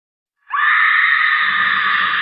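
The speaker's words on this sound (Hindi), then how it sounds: "उस लड़की की चीखने की आवाज़ सुनाई देने" A girl screams on a dark Diwali night in a horror setting, one loud, sustained, piercing shriek that bursts in after a moment of silence and holds steady to the end.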